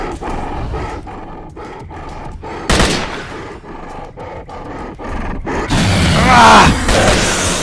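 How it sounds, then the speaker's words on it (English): Gunfire in the video game S.T.A.L.K.E.R. Call of Pripyat, set in the Lair of the Bloodsuckers: a sharp, loud burst near the middle, then a dense, sustained noisy volley toward the end over a rumbling, growling ambience. "Watch where you're shooting."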